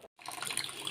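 Dyed cloth dropped into water mixed with dye fixative makes a brief, close watery swish and trickle after a moment of silence, lasting about a second.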